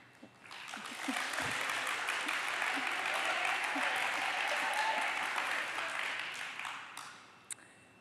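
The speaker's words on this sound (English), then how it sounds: "what I call the clapping phenomenon" Sustained applause from a room of physical therapy students fills the space, rising quickly, holding steady for several seconds, then tapering off near the end.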